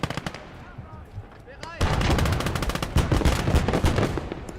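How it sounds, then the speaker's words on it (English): Panzer II tank guns firing at Soviet infantry in the bush in the World War II game Call to Arms - Gates of Hell: Ostfront, with rapid, loud bursts of automatic fire and sharp shots that intensify partway through, and speech mixed in. "Panzer II's plugging away at some Soviet infantry in the bush there"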